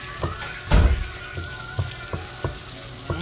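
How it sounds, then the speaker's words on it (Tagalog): Garlic, onion and ground pork are sautéed in a pan: a soft, constant sizzle under regular knocks and scrapes of a spatula, one heavier thump early on, with no talking. "nag-saute na po ako dito ng garlic, onion, tapos itong giniling"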